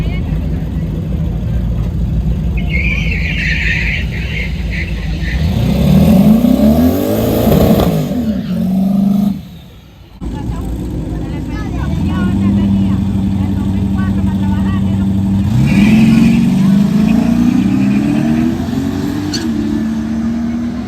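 A Mustang on a first shakedown pass revs hard through rising gear sweeps with a brief cut between them. The engine sits loud and close, and a voice talks in the background.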